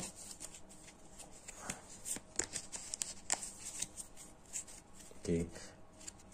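Quick papery riffles and card flicks come in short bursts, fairly close, with a brief voiced murmur near the end, as a deck of cards is shuffled during a solo board wargame.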